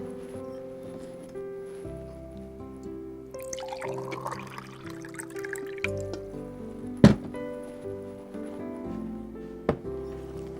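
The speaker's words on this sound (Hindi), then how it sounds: "पानी से आटा गूंथेंगे हम।" Water is poured and dripped into flour while kneading soft dough for paratha in a kitchen, heard as quiet trickling and a few sharp drips over soft background music.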